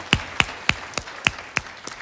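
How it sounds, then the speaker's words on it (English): Seven slow, evenly spaced hand claps, sharp and close, with a short pause between each, from an audience joining a Harriet Tubman Day program. "Give yourself a hand clap"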